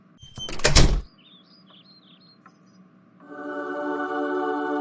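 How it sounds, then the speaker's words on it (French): A door opens in a house: a short, loud clatter of handle and latch at the start, followed by quiet chirping and then a steady sustained tone, with no talk. "La porte est ouverte."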